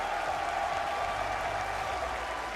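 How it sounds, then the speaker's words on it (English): A crowd at the Call of Duty League Championship grand finals claps steadily, a dense wash of applause that holds at an even level throughout, sounding somewhat distant. "Give them a round of applause"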